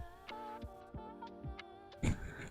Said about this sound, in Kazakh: Енді осы жердің барлығын оверлоктап шығатын боламын.